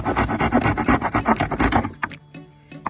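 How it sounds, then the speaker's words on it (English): Gerber hand saw cutting through a half-inch piece of pallet wood, a fast run of loud, rhythmic rasping strokes close by, then a few scattered knocks and scrapes as the cut finishes. "see that there sawed right through that. That's about a 1/2 inch piece of pallet right there"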